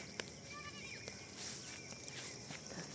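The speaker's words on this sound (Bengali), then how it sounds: "আমি এখন যাচ্ছি ছাগল নিয়ে।" Goats being led along a path near a railway bleat faintly in short, high cries, several scattered across the clip, distant and quiet against outdoor background noise with occasional footsteps.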